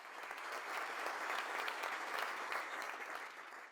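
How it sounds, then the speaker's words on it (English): A crowd at a mayor's State of the City address claps in a steady, moderately loud burst of applause lasting a few seconds, with no voices over it. "Definitely clap for that."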